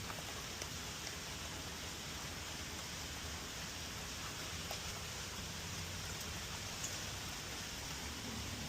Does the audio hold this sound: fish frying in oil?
no